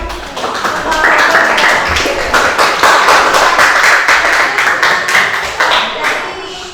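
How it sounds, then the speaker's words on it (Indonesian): A classroom group claps in applause, a burst of many hands clapping together for several seconds, loud and close. "tepuk tangan buat"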